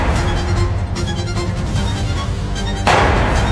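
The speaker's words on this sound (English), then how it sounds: "Then, 2 gunshots ring out." A loud sharp blast bursts out near the end after a stretch of dense low rumbling, the report close and heavy.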